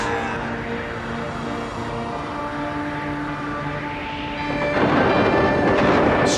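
A dramatic thunderstorm effect rumbles through a film scene, a long rolling roar under a sustained droning tone that swells into a louder crash near the end.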